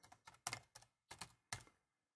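Fingers tap out a short run of about six crisp keystrokes on a computer keyboard, close and clear, in a quick uneven rhythm before falling silent.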